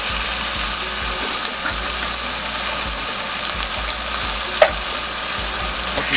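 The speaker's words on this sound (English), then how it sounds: "just to get a nice good sear. Get a nice flip, get the color you want." Red snapper fillets sear in a hot pan, giving a loud, steady, dense sizzle that runs unbroken, with one brief clink partway through and no voice.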